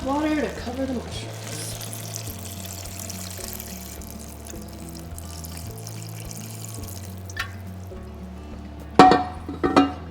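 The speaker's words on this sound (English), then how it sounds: "enough water to cover the mushrooms." Water poured into a pot over mushrooms for a Hungarian turkey heart and mushroom stew (pörkölt), a soft steady pour under background music, ending with a brief louder splash and clatter.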